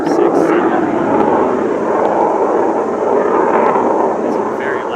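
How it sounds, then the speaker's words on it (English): A very loud airplane passing low overhead, a broad engine roar that stays strong for several seconds and slowly eases off, close and dominant. "It's a very loud plane."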